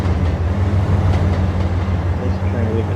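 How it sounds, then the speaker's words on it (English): A metro rail train pulling into a station in the Trainz simulation game, a steady low rumble of wheels and engine with faint clacking, continuous and fairly close. "Train coming in, we have trains going out."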